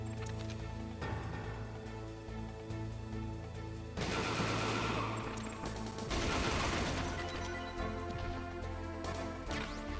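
Rapid gunfire bursts in the video game Metal Gear Solid, faint and heavily mixed with tense game music, with denser volleys swelling in the middle and again near the end.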